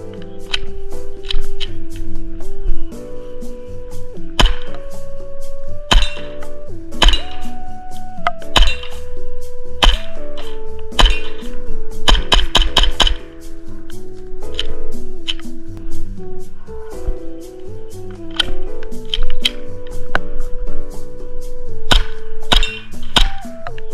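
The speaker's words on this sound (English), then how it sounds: "let's go shoot some guns." Airsoft pistols from a John Wick edition Evike box fire a long series of sharp snapping pops, sometimes single and sometimes in rapid clusters, over steady background music.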